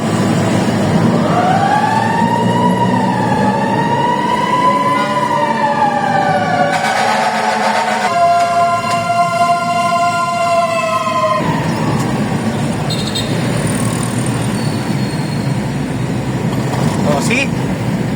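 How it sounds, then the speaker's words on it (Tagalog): A fire truck siren wails loudly on a street in Makati, rising and falling, then switches to a steady high-low tone, blaring close by with voices in the background. "Medyo pinuputol ko dala na napakaingay ng bumbero."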